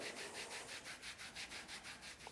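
Kinesiology tape being rubbed down onto a wrist and forearm with a hand, a quick run of about ten soft, even friction strokes, close and steady, with no talking.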